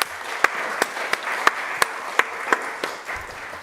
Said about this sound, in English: just take a brief moment to just applaud this team and the amazing work that they're doing